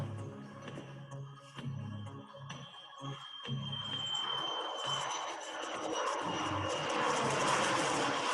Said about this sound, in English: Was that really in that movie, the jet sounds?